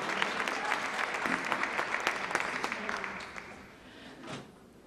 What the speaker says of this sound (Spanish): Pedimos un muy fuerte aplauso para nuestros premios nacionales de artes y